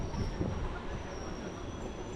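A train at Chandpara station makes a dull, steady rumble with a faint high whine running through it, heard from inside at moderate loudness.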